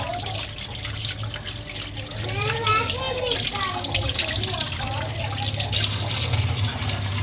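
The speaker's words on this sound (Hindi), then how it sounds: "पहले अच्छे से पानी से धो लेंगे" Raw fish for a masala fish fry is rinsed under running water, a steady close splashing and trickling from a tap over the pieces, with a low hum beneath and no clear talk.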